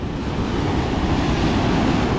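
Large ocean waves crashing at Praia Grande in Arraial do Cabo, a loud continuous roar of surf mixed with wind buffeting the microphone.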